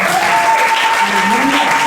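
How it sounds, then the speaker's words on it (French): A church congregation gives the Lord an offering of acclamation, loud steady applause close by with cheering voices and a sustained tone running underneath. "Donnons au Seigneur une offrande d'acclamation."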